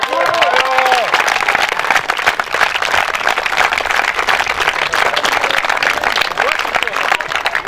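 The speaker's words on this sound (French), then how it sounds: "qu'on ait donné un tonnerre d'applaudissements donc à la numéro 1 de ce classement" An audience gives loud, sustained applause mixed with cheering for footballer Marion Rey at a women's football event, with a voice speaking near the start.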